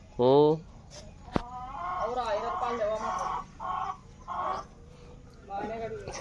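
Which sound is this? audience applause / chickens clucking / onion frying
chickens clucking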